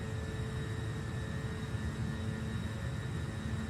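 A pair of JT8D jet engines on an MD-80 airliner roar at takeoff power in a flight simulator, giving a loud, steady broadband rush with whining tones and no talk.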